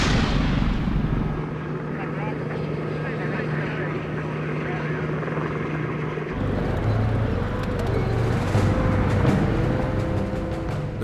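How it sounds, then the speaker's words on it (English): Deep booming tank shell blasts and a rumbling roar in the Iraqi desert, with a T-55 tank and a Lynx helicopter involved, heavy low rumble continuing throughout alongside a humming engine. "seconds later, there's another explosion, probably about 75 meters now"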